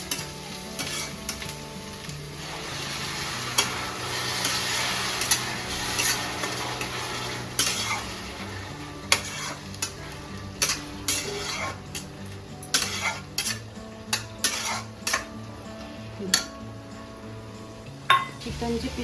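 Tomato paste sizzling and frying with onions in a home kitchen pan for a chicken lapeta recipe, with steady crackle and repeated spoon scrapes and clinks of stirring, close and continuous, without talk.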